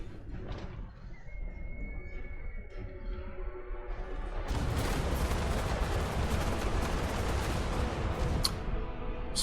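Great cannon artillery fire in the video game Total War: Warhammer 2 booms within a rumbling battle soundscape, which swells into a dense, continuous roar of gunfire and clashing about halfway through.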